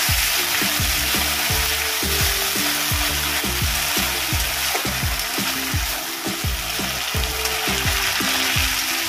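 Ginger and poppy seed paste with salt frying in a pan for Bengali lau sukto, a loud continuous sizzle with a steady rhythm of spatula strokes scraping the pan, close and dense throughout.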